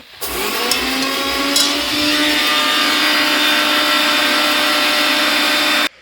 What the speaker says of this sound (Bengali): ছেলে আমাকে মিক্সিতে একটু গুঁড়ো করে দিচ্ছে।